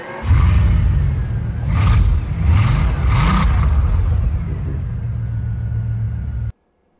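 A 2008 Lamborghini Reventon engine in Forza Motorsport 4 roars loudly, rising through several revving surges before settling into a steady idle-like drone and cutting off abruptly near the end.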